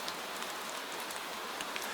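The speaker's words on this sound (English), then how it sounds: "The rain taps your hood." Gentle rain falls steadily in a soft, even hiss with faint scattered droplet taps, quiet and continuous on a rainy night.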